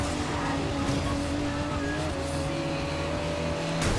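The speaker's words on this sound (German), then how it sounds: "Hey, davon fährt der Felix. Mit seinem Countach." A Lamborghini Countach in the racing game Forza Horizon 2 pulls away with a steady, droning engine note full of layered harmonics. The pitch holds fairly even and stays loud and close throughout.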